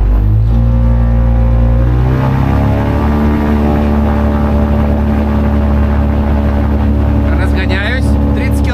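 Electric motor of a Pipistrel Taurus glider at full takeoff power, a loud, close, steady whine with layered harmonic tones rising in pitch as it speeds up, a voice talking over it.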